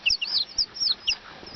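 Several young chickens bought from a farm store, one white and two red, give short, high clucks and chirps in quick bursts, close by and fairly soft, with no talking.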